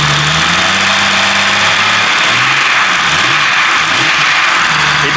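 A 4.0 engine running hot on pure Lucas oil additive gives a loud, close, continuous drone with a slight shift in pitch partway through and no voices over it.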